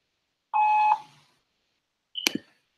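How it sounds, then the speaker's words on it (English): A voicemail recording tone: one steady electronic beep about half a second long, clear and alone, followed after a pause by a brief sharper click-like electronic blip. "At the tone, please record your message."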